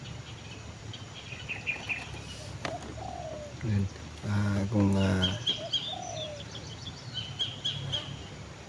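A wild bird calls outdoors in a scenic rural spot, with soft cooing notes like a dove and scattered chirps repeating in the background while someone talks over parts of it.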